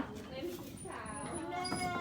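Goats bleating at a university goat farm, faint wavering calls in the background beneath a woman's nearby speech.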